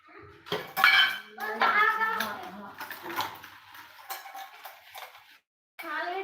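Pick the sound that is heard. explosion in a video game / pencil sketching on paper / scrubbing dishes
scrubbing dishes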